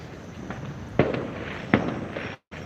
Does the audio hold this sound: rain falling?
no